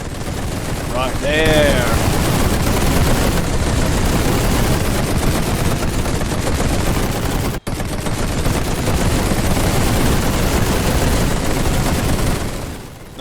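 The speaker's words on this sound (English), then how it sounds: "now we should be able to see some machine gun firing" Dense, continuous machine gun fire from a World War I strategy game, The Great War 6.0, roars steadily for about thirteen seconds with a brief dropout midway, and a voice calls out once near the start.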